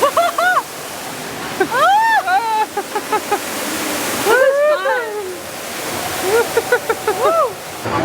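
A waterfall rushes beside the Aquatopia boat ride at Tokyo DisneySea, a steady wash of water noise under riders' repeated excited exclamations and shouts.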